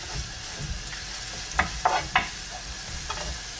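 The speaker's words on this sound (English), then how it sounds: "Pa-brownin lang natin yung garlic." Garlic frying in hot oil until browned, a soft continuous sizzle with three or four sharp spatula scrapes against the pan in quick succession, close by and without speech.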